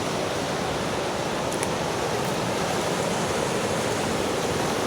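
Little Falls in Quetico pours with a steady, dense roar of rushing water, close and unbroken throughout, with no voices.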